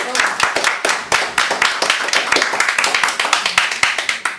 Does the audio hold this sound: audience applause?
yes